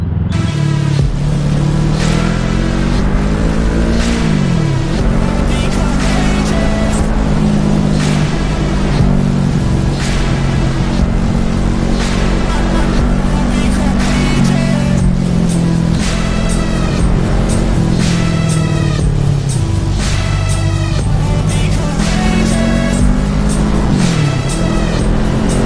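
An FKM Falcon X400 motorcycle is ridden through traffic, its mid-pitched engine droning steadily close up, with repeated rises and dips as the rider shifts and twists the throttle.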